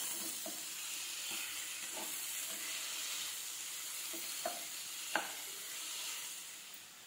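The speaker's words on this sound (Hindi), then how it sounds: "तो अब मैं इसमें डाल रही हूँ टमाटर। तो ये मैं टमाटर डाल रही हूँ।" Medium-sized tomatoes dropped into a pan of eggplant bharta, giving a steady soft sizzle with light stirring scrapes and a couple of sharp clicks, heard alone at moderate distance.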